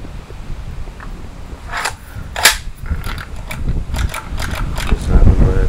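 Sharp pops from an AK47-style CO2 BB gun: a few spaced shots, then a quicker cluster of shots near the end, heard close over a noisy background with people talking.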